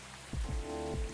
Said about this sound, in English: It hasn't stopped raining this entire game.